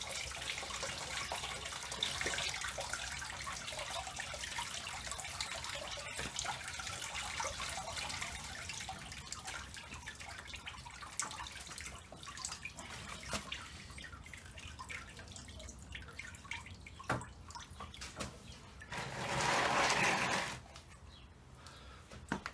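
Hot water trickles and drips steadily through a John Cooper Works car radiator during a Holts two-part radiator flush, rising to a brief louder gush near the end, with no talking.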